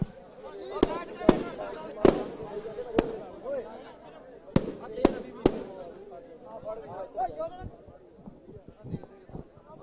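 Fireworks crack at a kabaddi tournament in a series of loud, sharp bangs spaced irregularly, some in quick pairs, while a voice keeps talking over a noisy crowd.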